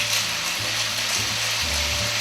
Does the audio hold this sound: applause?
no